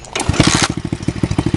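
A dirt bike fitted with a homemade custom muffler starts up close by and runs with a loud, rapid, even popping putter that goes on without a break.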